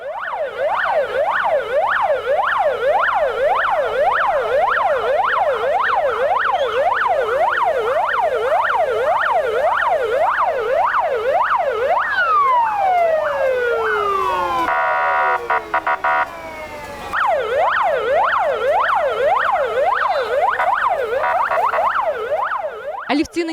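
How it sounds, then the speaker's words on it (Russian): Fire engine siren sounded for a retirement send-off at a fire and rescue station, loud and close, cycling in rapid repeated wails, then a long falling sweep and a brief break before the fast wailing resumes. "под сопровождением аплодисментов и воя сирены"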